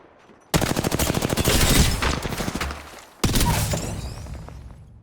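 Rapid automatic gunfire rattles in a shooter video game, a sustained burst of dense shots followed by a brief pause and a second loud volley with trailing echoes.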